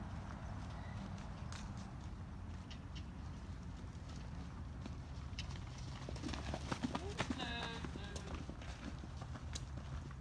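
A horse cantering under a rider during a training session, hooves clip-clopping in a steady rhythm over constant background noise, with a voice speaking faintly.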